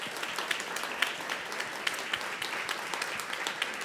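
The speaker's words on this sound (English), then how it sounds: "So I also want to give another round of applause to Amy Keister, Natalie Walker, and Jesse Hocker." An audience applauds speakers at a Stop Food Waste Day event, steady dense clapping at moderate distance, fairly soft, with no talk over it.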